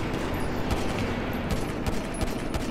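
Gunfire in Grand Theft Auto V rattles as a rapid, continuous fusillade of overlapping pistol shots, loud and dense with no pauses.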